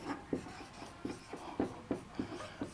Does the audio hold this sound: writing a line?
yes